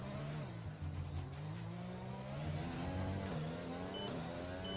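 Formula One race car in an Xbox F1 esports league at the Italian Grand Prix, engine droning steadily with a shifting whine as it brakes into a turn, heard alone at moderate level.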